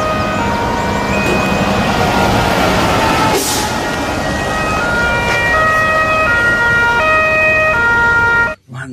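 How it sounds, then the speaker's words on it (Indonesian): A fire tanker truck's wailing emergency siren sounds loudly and continuously, its tones stepping up and down, with road traffic noise underneath until it cuts off at the end. "Truk tangki damkar."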